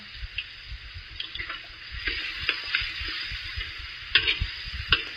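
Steady crackling sizzle of garlic frying in a pan, with occasional clinks and stirring scrapes, fairly close and moderate in level.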